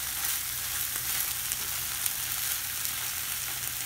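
Continuous hissing and popping as food fries in a hot pan, even and close with faint clicks scattered throughout.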